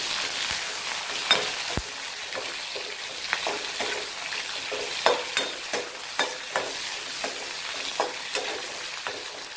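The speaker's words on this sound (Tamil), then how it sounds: "இப்பொழுது எண்ணெய் காய்ந்துள்ளது. சுத்தம் செய்து வைத்துள்ள பிரண்டையை சேர்த்துக் கொள்ளலாம்." Cleaned adamant creeper (pirandai) frying in hot oil: a continuous bright sizzle with a spatula scraping and tapping the pan in a quickening run of strokes, close up and with no talking.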